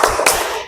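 A classroom group claps a quick rhythmic focus clap, two sharp hand claps in close succession close by.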